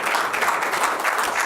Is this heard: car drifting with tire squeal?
no